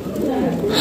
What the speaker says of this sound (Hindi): ये सारे न्यू कबूतर हैं